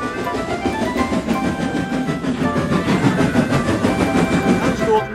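A steam locomotive rolls into a station with a loud, steady rumble and a rhythmic clatter of wheels that lasts throughout, over a dense, busy background.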